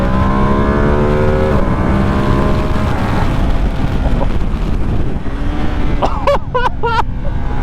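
A 2025 Ducati Panigale V2S motorcycle engine drones loudly through engine braking, its pitch sliding down under heavy wind rush, with a voice exclaiming briefly near the end.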